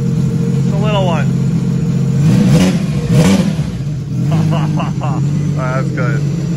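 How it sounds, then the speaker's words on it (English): The engine of a 300-horsepower mini jet boat, run dry with no coolant, revs up loud and close in a couple of swelling bursts, with people talking over it. "Rev her up one time."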